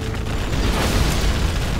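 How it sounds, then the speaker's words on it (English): A particle cannon blast in Command & Conquer Generals Zero Hour, heard as a loud, sustained, rumbling roar with a dense crackle that fills nearly two seconds without pause and with no voices over it. "Particle cannon activated."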